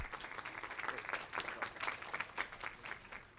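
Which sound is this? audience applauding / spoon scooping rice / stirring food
audience applauding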